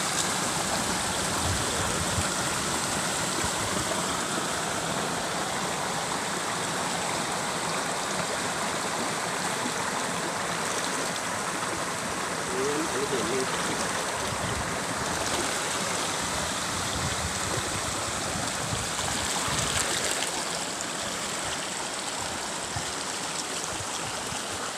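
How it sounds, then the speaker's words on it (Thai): Wang Yen waterfall pours in a continuous broad rush of falling water, steady and fairly loud throughout with no voices. "ชมความงามน้ำตกวังเย็นกันค่ะ"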